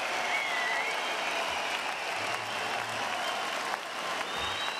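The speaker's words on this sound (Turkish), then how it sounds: "İki boksör de sonuna kadar alkış hak ediyor." A large arena crowd applauds after a super-middleweight professional boxing bout, steady sustained clapping and crowd noise heard from a distance, with a brief low murmur partway through.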